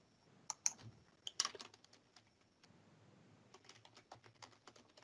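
Someone types on a computer keyboard at close range: quiet, uneven bursts of light key clicks with a couple of sharper taps and short pauses, in an otherwise quiet room.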